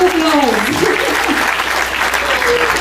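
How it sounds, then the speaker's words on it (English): Audience applause at a campus talk event, a steady wash of clapping filling the whole stretch, with a voice speaking briefly over it near the start. "please, round of applause"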